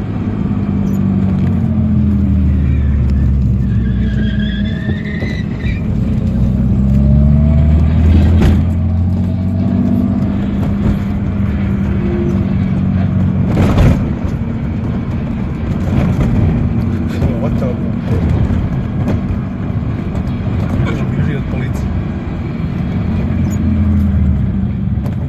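A car that has lost a wheel after a crash drives off with its engine droning steadily, and voices talk over the motor noise throughout.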